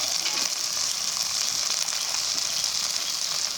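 Ground spice masala of cumin, coriander, turmeric, salt and chilli powder frying in a pan for chicken liver curry, a steady loud hiss and sizzle throughout with no voices.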